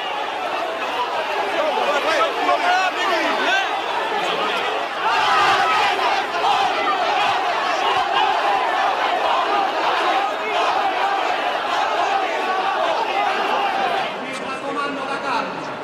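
A large, furious crowd of mourners roars and shouts inside Palermo cathedral at a funeral, breaking through police cordons. The dense, loud din of angry yelling and chatter runs continuously throughout, with no single voice standing out.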